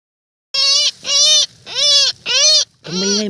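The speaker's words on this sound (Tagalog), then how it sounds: "nakuha na natin yung ibon niya kung kaninong nagsilo dito" A tikling rail bird caught in a snare calls out in five loud, close, harsh squawks, each roughly half a second long and separated by short pauses.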